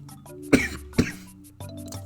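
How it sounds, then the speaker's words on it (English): A person coughs twice in quick sharp bursts close to the microphone, followed by a low throat-clearing rumble, with no talk over it. "why do I keep coughing?"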